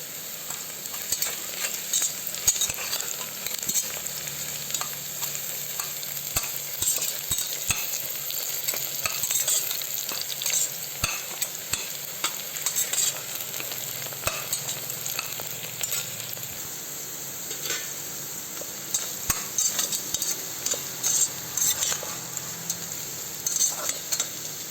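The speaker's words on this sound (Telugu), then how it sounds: "గోల్డ్ కలర్లో వచ్చేంత వరకు బ్రౌనిష్గా ఫ్రై చేస్తూనే ఉండాలి." Frying and stirring in a pan until golden brown, before chicken biryani goes into a pressure cooker: a steady close sizzle broken by repeated sharp scrapes and taps of a spoon throughout.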